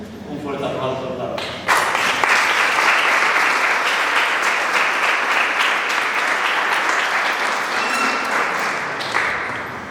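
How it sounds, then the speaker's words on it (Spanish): A crowd applauds to welcome a lecturer at a conference, with brief talk at the start before loud, sustained clapping fills the room and continues evenly until the end. "Un fuerte aplauso"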